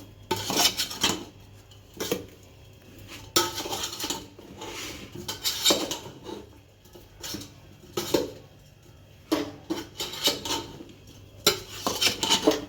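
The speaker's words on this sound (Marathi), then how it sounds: "दोन चमच लाल मसाला आता मिक्स करून घेते मी लोणचं" Raw mango pickle is stirred with red masala using a spoon in a bowl, producing close, irregular bursts of clinking and scraping against the container, with short pauses between strokes and no speech.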